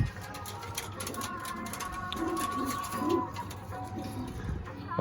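Pigeons coo softly and repeatedly nearby, low throaty calls over a steady background hum, with a few faint chirps.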